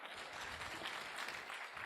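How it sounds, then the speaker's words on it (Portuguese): An audience applauds a speaker at a Silicon Valley Day 2017 event: a brief wash of many hands clapping, soft and somewhat distant, steady throughout. "Salva de palmas"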